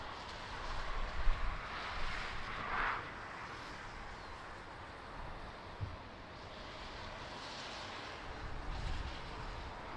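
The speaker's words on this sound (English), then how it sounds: "É verdade, Rosária, chuva não para." Rain falls steadily at Lisbon Airport in crosswind weather, a broad constant hiss with faint distant rumbles and no voices.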